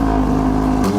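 McLaren with a Velocity AP engine tune, catless downpipes and full race exhaust gives a loud, close, sustained droning engine note that shifts pitch briefly near the end.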